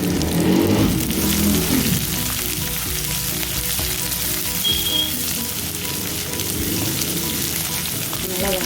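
Two large onions dropped into hot oil with browned chana dal, urad dal and moong dal in a pan, a burst of sizzling that settles into a steady, crackling fry.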